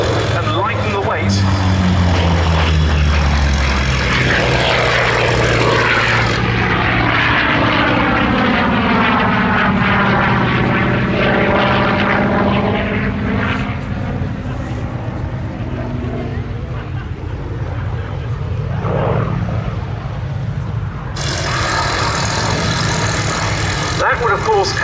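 A Grumman Bearcat piston-engine fighter plane flies past at the Duxford Battle of Britain air show, its loud droning engine rising and falling with a sweeping pitch change as it passes, under continuous talk.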